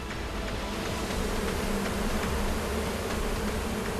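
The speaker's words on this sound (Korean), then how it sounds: "갑작스런 연기에 놀란 벌떼의 습격." A swarm of honeybees, disturbed by smoke on a remote island, drones in a continuous dense buzz with individual bees zipping close past the microphone.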